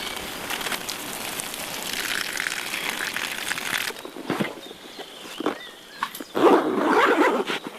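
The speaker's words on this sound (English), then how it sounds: "all I need to do is just drain the rice" Pre-cooked rice heated in turmeric water is drained, a rushing pour of water that stops partway, followed by scattered drips and clatter and a final splashy gush.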